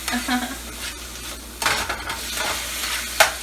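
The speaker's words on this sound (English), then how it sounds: "so you can see our spinach is cooking down quite a lot" Spinach wilts down in a hot pan, a low simmering sizzle under several bursts of stirring and scraping, ending with a sharp metallic clink of the utensil against the pan.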